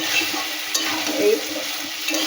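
A spice paste with ground poppy seed for a potato and green pea curry is stirred in a hot pan, giving a continuous sizzle broken by light scraping strokes of the spatula, close and steady, with no talking.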